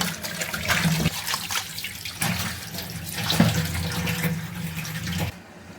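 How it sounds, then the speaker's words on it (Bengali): Tap water runs steadily over tilapia fish being washed in a sink, a loud continuous gush with splashy variations that cuts off near the end. "মাছটা এখন ধুয়ে রাখলাম"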